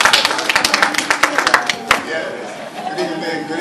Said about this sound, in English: Clap it, please.